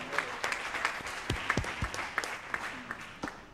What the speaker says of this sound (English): They deserve all claps. Please clap for them.